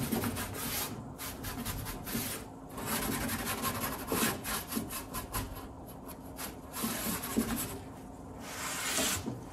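Repeated rubbing strokes of a cloth wiping excess glaze off painted wooden furniture details, close and soft, in uneven bursts of scrubbing friction with brief pauses between passes.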